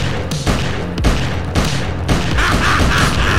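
Rapid gunfire from a fire gun in the VR game Blade and Sorcery, loud repeated booming shots layered over one another in a continuous barrage with no break.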